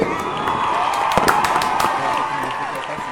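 Celebratory fireworks sound effect with crackling bursts and pops over a steady crowd cheer, played during a live football match reaction stream after a Galatasaray win, loud and continuous.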